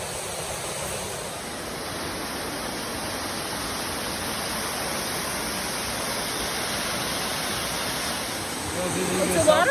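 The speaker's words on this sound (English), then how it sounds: "It's a waterfall." A waterfall beside a mountain trail near Moosilauke in New Hampshire roars steadily as a dense, even rush of falling water that stays loud and unbroken throughout.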